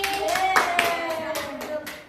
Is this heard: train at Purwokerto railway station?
no